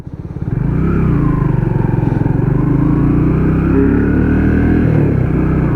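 An AJS Cadwell motorcycle rides along with a loud, close, steady engine drone and rhythmic low pulsing after a quick rise at the start.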